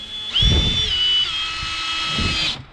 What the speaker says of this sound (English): when I put my metal in the brake, I will use my drill